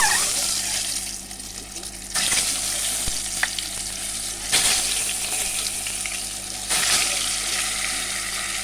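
Egg frying in hot oil seasoned with salt and turmeric, a loud steady close sizzle and crackle running throughout, with occasional utensil scrapes and stirring bursts.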